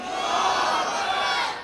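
Large crowd at a religious gathering shouting back in unison in response to the Takbir slogan, a loud sustained roar lasting the whole moment before fading slightly at the end.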